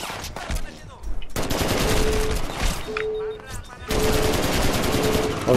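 Rapid automatic gunfire bursts from a Crackdown video game shootout, loud and close, with dense volleys broken by short pauses and a tonal alarm-like beep partway through.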